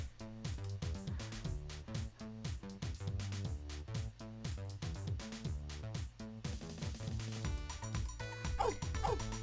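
In a pet-the-puppy video game, a cartoon puppy yips and barks in quick repeated bursts over steady, rhythmic game music.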